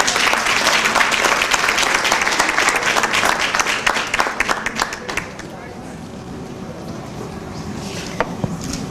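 Dense audience applause at a Caribbean American Heritage Month breakfast, loud sustained clapping from a large crowd with some cheering, thinning out after about five seconds into scattered claps and background murmur.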